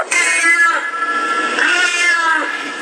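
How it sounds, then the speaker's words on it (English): A cat meows loudly and close up in a long, drawn-out wail that wavers in pitch, filling the short moment with little else around it. "Cats, I hate cats."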